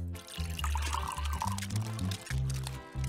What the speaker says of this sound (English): Why are you pouring the punch like that?